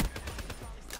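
Rapid bursts of automatic gunfire in a Black Ops 3 multiplayer match rattle in quick succession, loud and close, over a brief second of combat noise.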